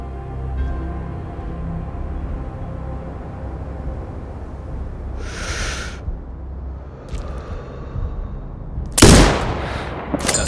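Distant gunfire and low rumbling battle ambience fill a sniper training range in Sniper Ghost Warrior Contracts 2, ending with one sharp, loud rifle shot near the end followed by a brief echo.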